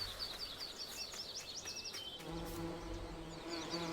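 Bees buzzing in the Farming Simulator video game, a steady high insect drone with wavering whines, faint and continuous, joined later by a lower hum.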